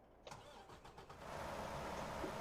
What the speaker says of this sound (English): As I get near someone, I hear the engine start.